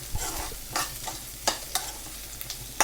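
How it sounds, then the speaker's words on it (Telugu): Coriander and tomato frying in a pan for chutney, a soft background sizzle punctuated by a few sharp scrapes and taps of a stirring spoon, close up. "ఒక టూ మినిట్స్ అట్లా ఫ్రై చేసుకోండి"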